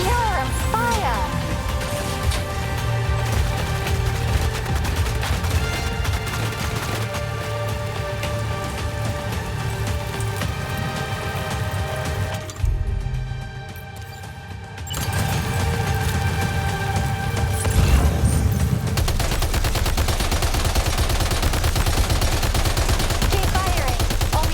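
Sustained gunfire in Death Stranding 2 combat, dense rattling bursts under game music and rain-like noise, with a brief lull midway before the firing resumes.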